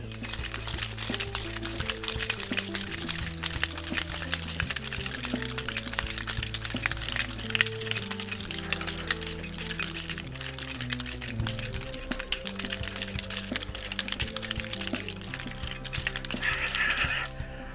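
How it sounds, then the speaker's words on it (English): Plum, sage and rum cocktail dry-shaken without ice in a shaker tin makes a fast, continuous rattling slosh that lasts the whole stretch, with steady rhythmic clatter over music playing in the background. "No ice, dry shake, seal her up, shaking for 20 seconds."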